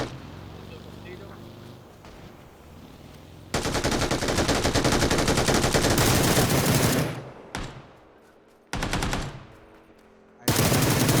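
Automatic gunfire in the PUBG battle royale shooter: long sustained machine-gun bursts, loud and close, cut off abruptly several times with short pauses between, alongside engine noise and voices talking.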